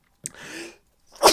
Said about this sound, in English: I think I'm gonna sneeze.